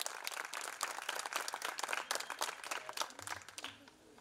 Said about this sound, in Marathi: पूर्वीसाठी जोरदार टाळ्या होऊ जाऊ द्या.